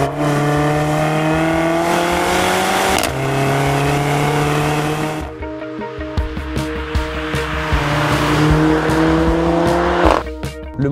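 The turbocharged four-cylinder engine of a Mercedes A45 AMG revs hard under acceleration, rising in pitch through successive gear changes with brief dips and crackles between them, loud and close with no talk.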